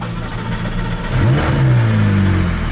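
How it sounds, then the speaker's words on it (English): A McLaren sports car engine fires up and settles into a rising, throaty rev after a quiet moment, loud and close with no talking. "Get the engine running."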